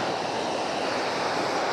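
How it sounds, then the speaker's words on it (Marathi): A monsoon waterfall at Kashedi ghat in the rainy season, a dense continuous rushing roar of falling water, steady and loud with no voices. "धबधबा आहे रे"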